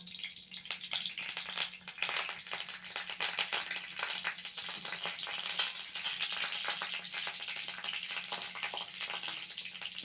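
Dried red chilli, green chilli and curry leaves crackle and sizzle steadily in hot oil, a dense, continuous frying hiss close by with no talking.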